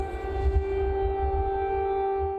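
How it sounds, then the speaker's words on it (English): Air raid sirens wail across a city, a loud, sustained, steady tone rising alone with a faint low rumble underneath. "air raid sirens ran across the city, followed by explosions"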